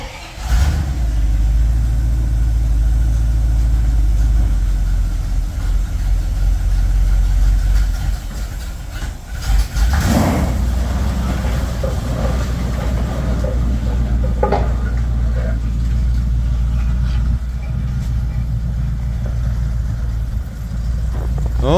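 A 1967 Bombardier wide gauge tracked machine's engine runs loud and close for the whole stretch, a heavy low drone with a brief rise in revs and some clanking, with no talk.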